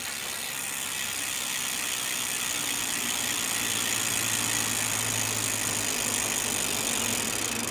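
The freewheel hub on the rear wheel of a Twitter Thunder DB RS24sp disc-brake aero road bike spins with a rapid, continuous ratcheting buzz, close up and steady throughout with no talking.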